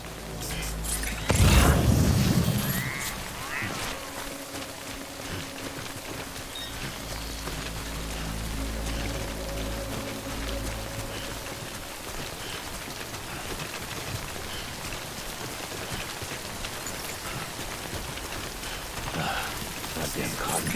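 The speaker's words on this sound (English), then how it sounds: "Good thing it was raining." Rain falls steadily in the video game Death Stranding, a dense even hiss that runs throughout, with a deep rumbling boom near the start and low game tones underneath.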